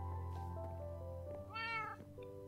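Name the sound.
cats meowing in the video game Paperhats 3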